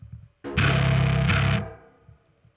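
A bass guitar played through a clone of the Tone Bender fuzz pedal gives one loud, buzzy, saturated note that is struck again partway through, rings for about a second, then fades into quiet.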